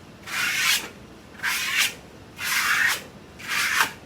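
A trowel burnishing a plaster wall finish in four slow, even strokes about one second apart, each a close, breathy scraping rub with short pauses between.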